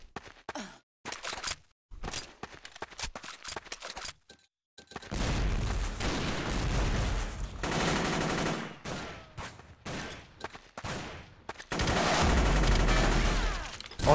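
Gunfire in the online shooter WarRock: loud, dense bursts of automatic fire and sharp single shots in rapid clusters, broken by short silent gaps, with booming impacts and no talk.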